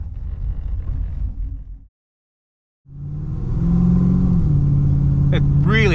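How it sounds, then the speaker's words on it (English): A cammed SS Commodore with an LS1 V8 accelerates along a road, its engine note rising and rumbling close by after a brief silent gap, with talk over it. "When it hits about 2000 RPM, it really takes off."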